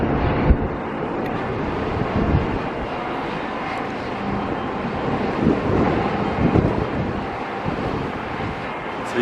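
Strong wind buffets the microphone at a stadium construction site in Las Vegas with a constant rumbling roar, gusting louder at moments.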